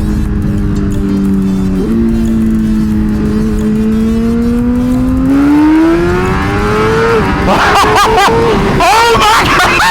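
A car engine revs on a road near a rider on a lowered motorcycle, its pitch climbing steadily and loudly, while people shout excitedly toward the end.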